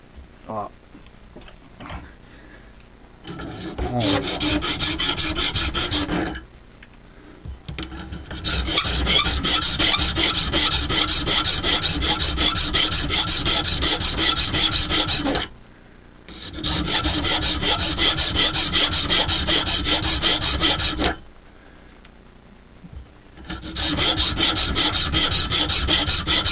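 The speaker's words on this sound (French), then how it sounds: "Et là, il faut passer un petit moment à limer." A hand file rasps back and forth across a bakelite gasket for a 1/5 scale RC engine, loud rhythmic scraping in long bursts separated by short pauses.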